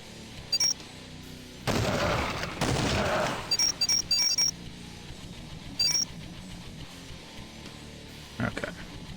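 Sniper rifle fire in a video game: a couple of loud, sharp blasts with rumbling tails, followed by scattered short game effects and clicks.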